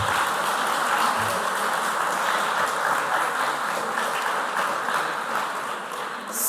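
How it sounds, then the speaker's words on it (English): Steady applause from a crowd at a school quiz semi-final, a sustained wash of clapping that holds for several seconds and eases slightly at the end. "Well-deserved round of applause."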